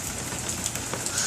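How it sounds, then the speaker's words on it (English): Steady rain falls on an outdoor table in Albuquerque, drops spattering and bouncing off its surface in a dense, continuous hiss with faint scattered taps, close by and without voices. "You see that rain bouncing off the table?"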